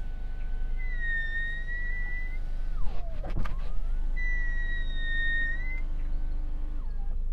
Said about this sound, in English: While the electric window motors in this car are very quiet, if the window is wet, you get this strange noise